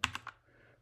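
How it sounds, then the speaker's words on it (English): Three quick keystrokes on a computer keyboard, a Control C press to stop a running command, crisp and close, followed by faint room quiet. "Control C on a keyboard."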